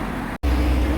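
A steady low rumble of a large road vehicle nearby, interrupted by a brief dropout before the engine noise resumes.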